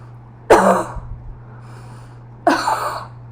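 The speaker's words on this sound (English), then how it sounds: "breathe through your nose, and then cough through your mouth." Two sharp, close deliberate coughs about two seconds apart, demonstrating post-operative lung-clearing, with quiet breathing and a low steady hum between them.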